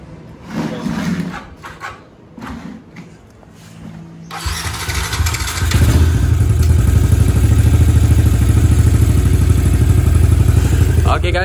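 A Yamaha LC135 motorcycle with a 57mm full-spec modified engine is started after a few clatters and thumps, then keeps running loud and steady at close range in a workshop.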